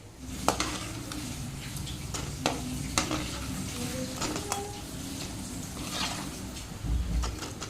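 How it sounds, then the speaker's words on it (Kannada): Food frying in a pan gives a steady sizzle close up, while a utensil stirring it scrapes and clacks in scattered sharp strokes, with a dull knock near the end. "ನೋಡಿ ಇವಾಗ ಫ್ರೈ ಆಗ್ತಾ ಬಂತು"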